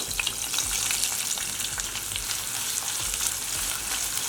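Sliced onions and green chillies fry in hot oil for pulao, giving a dense, continuous crackling sizzle with faint stirring taps, close and steady throughout.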